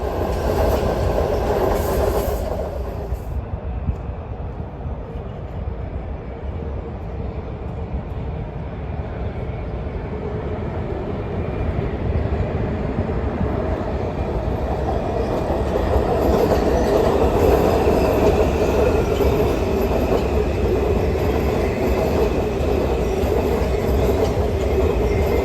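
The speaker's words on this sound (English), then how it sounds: "I told the group that the Blossom Train was coming" A DC Metro eight-car train wrapped in cherry blossom Sakura livery rumbles steadily past nearby, its broad wheel-and-rail roar building and sustaining with faint clacking and a squeal, heard alone without talk.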